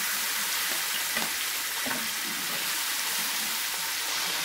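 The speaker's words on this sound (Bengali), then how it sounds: "সেই তেলটাতে আমি মাছটা ভেজে নিচ্ছি।" Hilsa fish heads fry in reused hilsa-frying oil for a village Bengali taro-leaf dish, giving a steady, close sizzle and crackle with faint stirring clicks throughout, no voices.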